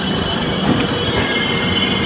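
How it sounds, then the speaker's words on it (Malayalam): A passenger train at a railway station rolls steadily with rumbling wheels and a faint high squeal, heard close and alone over the whole stretch. "ചക്കറിനെ നമ്മൾ ട്രെയിൻ കയറ്റി വിടുകയാണ്."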